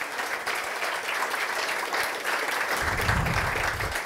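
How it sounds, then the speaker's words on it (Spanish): A studio audience on a comedy talk show applauds its guest with steady, dense clapping that fills the whole stretch, loud and close, with a low rumble joining near the end. "Un fuerte aplauso de nuevo para nuestro invitado de esta noche"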